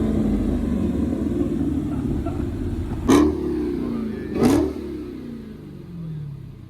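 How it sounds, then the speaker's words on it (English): A car engine rumbles at a 7-Eleven car meet and twice revs up in sharp, loud bursts over a steady idle and crowd noise. "Just rev it."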